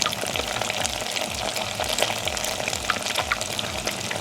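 Cheese onion rings deep-fry in oil over medium heat, a steady close bubbling and crackle that runs unbroken with no talking.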